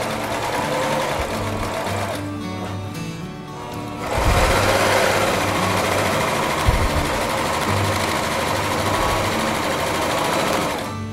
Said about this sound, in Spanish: me di cuenta que en la tela azul desliza más rápido la máquina